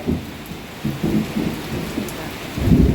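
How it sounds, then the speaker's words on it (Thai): Rain falls on a Friday afternoon in Thailand, a steady hiss with low rolling thunder rumbles swelling and fading, no voices present. "ฝนตกนะคะ"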